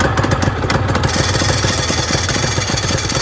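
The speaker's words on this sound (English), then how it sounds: "If you have a listen to the glorious dry clutch." A loud, close-up Honda NSR250R-SP motorcycle engine idling with a steady mechanical rattle from the dry clutch, constant and uninterrupted.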